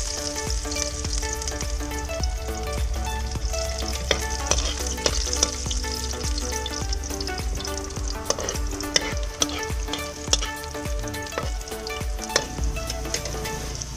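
Garlic frying in a pan for a shellfish dish: a steady, close sizzle runs throughout, with scattered clicks and scrapes of stirring and no talking.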